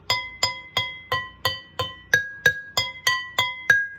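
An empty glass candle jar struck with a pencil rings out in about a dozen evenly spaced, bright taps, each a clear pitched clink with a short decaying ring, close and alone.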